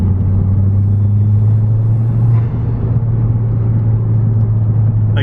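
Steady low engine drone and road rumble inside a Saab 9-3 fitted with a custom intake, heard from the cabin with the windows up, a constant loud hum with no clear revving throughout.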